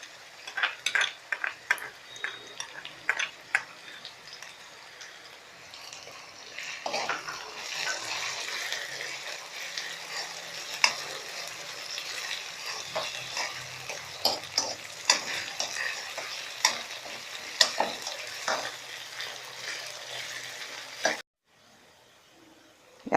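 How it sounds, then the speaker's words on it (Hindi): Ginger garlic paste sizzles steadily in hot oil in a pan while a spoon stirs it with frequent scraping clicks, close and continuous until it suddenly stops. "अदरक लहसुन का पेस्ट डालेंगे आप,"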